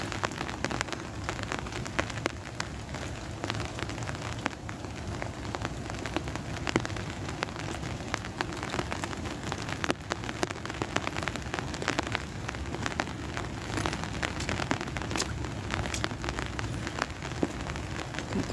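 Gentle but constant rainfall near blooming lilac shrubs, a soft even patter of drops on surfaces with occasional sharper splashes, somewhat quieter and heard alone.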